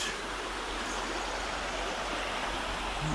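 A river in Pfeiffer Big Sur State Park rushes steadily with a dense, even wash of flowing water, continuous and fairly close throughout.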